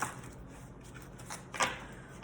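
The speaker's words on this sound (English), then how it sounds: "now I split the deck on Egypt and I shuffle it" A deck of cards being split and shuffled during a tarot-style reading, giving a soft riffling rustle with a brief louder burst near the end over low room noise.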